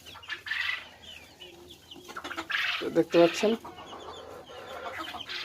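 Four-month-old Fayoumi chickens raised in Munshiganj cluck and crow in short bursts at close range, with someone speaking over them.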